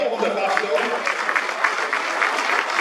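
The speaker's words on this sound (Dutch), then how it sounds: "Maar applaus vast." Audience applause at a municipal New Year's reception in Aalten, a steady wash of clapping from a gathered crowd that runs evenly throughout at moderate loudness.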